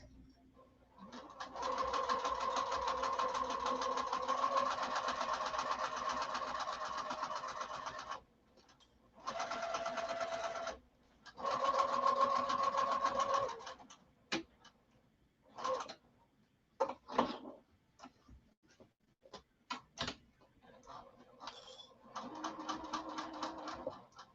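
A sewing machine stitching at a long stitch length of 6, running in sustained bursts of steady whirring, then short stop-start runs toward the end, close and loud with no talk.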